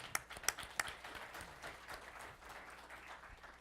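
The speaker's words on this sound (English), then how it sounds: "let's give Annie a welcome applause here" Audience applause welcomes a speaker at the grand opening of the SEED Center, a faint, steady patter of many hands with a few sharper claps standing out near the start.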